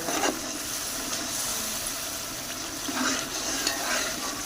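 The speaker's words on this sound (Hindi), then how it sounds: "इनको हम मज़ीद 2 से 3 मिनट तक भूनेंगे मसाले को।" Masala frying with browned onions for black chickpea pulao, a dense steady sizzle with faint stirring scrapes now and then, moderately loud and continuous throughout; no talking.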